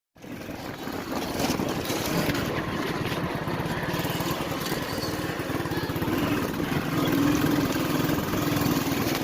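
A motorbike engine drones steadily and fairly close on a ride through village country toward a goat farm in Dera Ghazi Khan, a continuous even hum with no talk.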